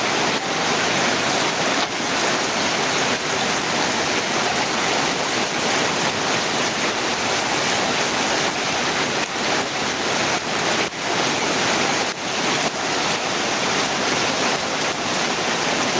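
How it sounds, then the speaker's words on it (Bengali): Heavy rain pouring down without pause, a loud, dense wash of hiss that fills the whole scene with only slight swells. "কি বৃষ্টি উঠেছে বৃষ্টি থামতেছে না"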